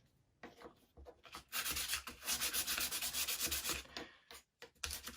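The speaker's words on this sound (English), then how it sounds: "run a sandpaper on both sides" Sandpaper rubbed back and forth over a small laser-cut plywood part from a UGears Aviator mechanical wooden model kit, a close, steady scratchy rasping lasting several seconds between brief pauses.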